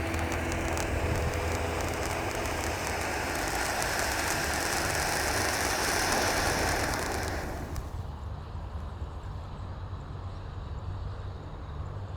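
A ground firework fountain throwing up coloured balls burns with a loud, steady hissing roar for about eight seconds, then cuts off abruptly, leaving quieter outdoor background noise.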